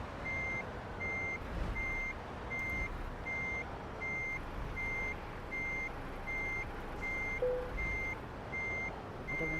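A truck in Euro Truck Simulator 2 (Scandinavia expansion) gives off steady, evenly spaced reversing beeps that repeat throughout over a continuous engine drone, with no talking.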